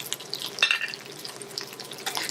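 Vegan plant-based sausages and vegetables fry in a pan, giving a soft, continuous sizzle with small crackling pops and a brief clatter, all fairly quiet and free of talk.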